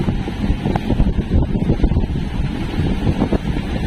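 Heavy waves slosh and crash around a loaded fishing boat at sea while gusty wind buffets the microphone in a continuous, roaring wash.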